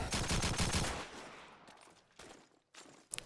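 Rapid automatic gunfire in Call of Duty 2 rattles in a fast burst for about a second, then thins into scattered shots and faint noise, with a few sharp reports near the end.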